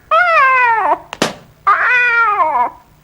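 A cat in a room meows twice, loud and close, two long drawn-out cries separated by a brief thump.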